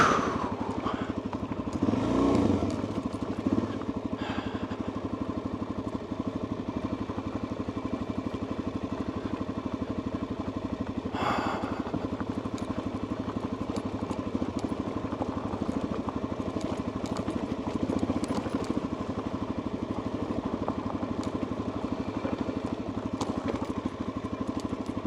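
Motorcycle riding slowly downhill on a gravel road, a steady low engine drone with faint crunching and clatter from the loose surface, constant and moderately quiet throughout.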